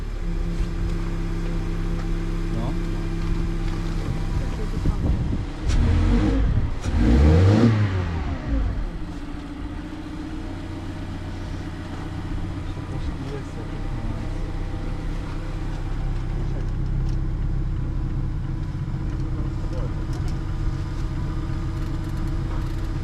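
A car engine cranks and catches, revs up loudly in a surge, then settles into a steady rumbling idle.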